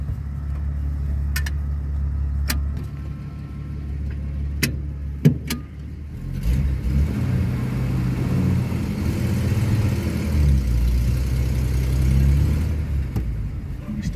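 A 1948 Willys engine cranks and fires, then settles into a close, rough running drone that swells into louder revs in the second half.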